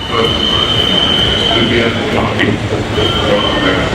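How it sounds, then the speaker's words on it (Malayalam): Loud, steady rumble of a Mumbai metro train pulling into a station, its wheels squealing with a high metallic whine throughout. "മെട്രോ വന്നു കഴിഞ്ഞു"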